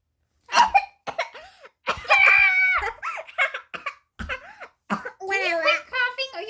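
A young child coughs repeatedly in sharp bursts, mixed with giggles and playful vocal sounds, close and clear with brief pauses between.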